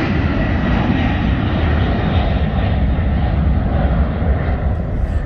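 Turboprop engines of an Antonov An-22A drone steadily in flight, heard from onboard the cabin as a loud, constant, dense roar with no breaks or voices.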